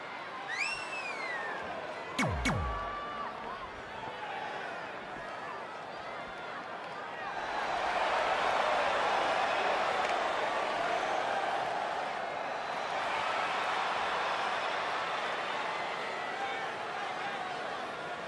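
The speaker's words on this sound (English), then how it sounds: "Listen to this crowd, guys." A wrestling event crowd cheers and roars loudly in a large arena, with a sharp whoop early on, then a sustained swell of shouting and hubbub that rises midway and keeps going.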